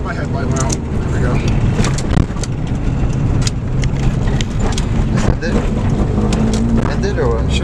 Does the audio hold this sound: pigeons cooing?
no